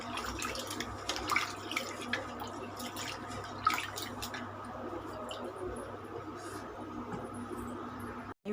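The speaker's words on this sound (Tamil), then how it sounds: "3 வாட்டி நல்லா அலசிட்டு இந்த மாதிரி எப்போவுமே அரிசி இந்த மாதிரி கழுவணுங்க." Rice being rinsed in water by hand while preparing adai batter, with soft continuous sloshing and dripping close by, low in level and steady throughout, no voices.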